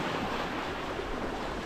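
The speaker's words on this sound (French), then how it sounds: "on se fait brasser quand même avec la houle" Broadband sea noise surrounds a sailing boat being rocked by the swell off Spain, with waves and wind rushing steadily and loudly close to the microphone.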